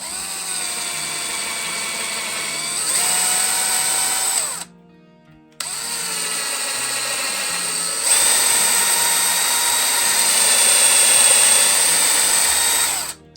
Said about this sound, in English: when you're drilling, make sure you go straight too